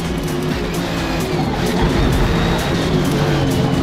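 Race car engines roar steadily and loudly in a racing video game as a Lexus pulls away, a dense continuous drone with no talking.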